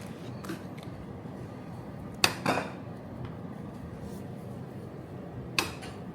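Spoons and plates clink faintly as food is served out at a home meal in Pattaya, a few sharp scattered knocks of cutlery on dishes over a quiet room hum.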